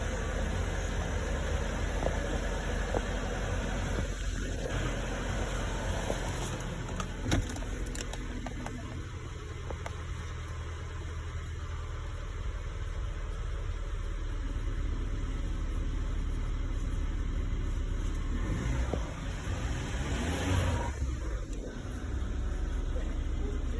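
A 2019 Mercedes-Benz 2.0 engine runs after starting, following a no-start condition after a crash, giving a steady low rumble that continues evenly throughout with faint hiss above it.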